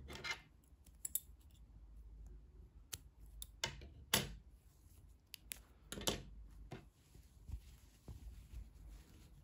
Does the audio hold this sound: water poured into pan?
no